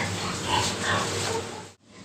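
Pigs grunting and snuffling as they are moved on a farm, a dense, continuous mass of grunts close by that cuts off abruptly near the end.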